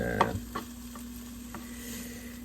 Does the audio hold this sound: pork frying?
yes